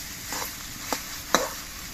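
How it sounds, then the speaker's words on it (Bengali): Papaya and sugar being stirred in a cooking pot, a low soft background sizzle broken by two or three quick scraping strokes of the spoon, fairly quiet and close. "এবার নেড়ে চেড়ে চিনির দানাগুলো সব পেঁপের সঙ্গে মিশিয়ে দিতে হবে"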